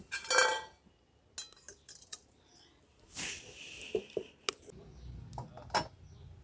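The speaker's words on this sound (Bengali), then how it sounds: "উনুনটা ধরিয়ে এবার কড়াটা বসিয়ে দিচ্ছি" A wok is set down on a lit stove with scattered metallic clinks and clanks, a few sharp knocks and scrapes, and quiet gaps between the impacts.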